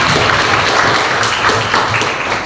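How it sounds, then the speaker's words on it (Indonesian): A class of students applauds together in a classroom, a loud continuous wash of clapping lasting the whole moment without letup. "Oke, tepuk tangan buat kita semua."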